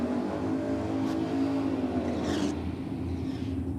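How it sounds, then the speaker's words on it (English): A drag racing car does a burnout on the racetrack at a nitro drag meet, heard as a steady, loud engine roar with hissing tire spin that surges briefly midway. "Big burnouts out there on the racetrack"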